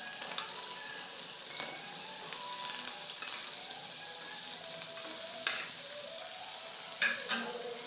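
Raw onion, cabbage and ginger sizzle in hot oil in a wok, with a steady frying hiss broken by repeated clinks and scrapes of stirring, close and moderately loud.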